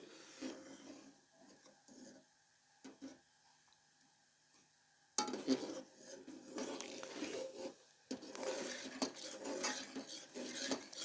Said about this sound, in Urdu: چمچ کی الٹی سائڈ سے آپ اس کو جو ہے نا یہاں سے ہی مکس کر دیں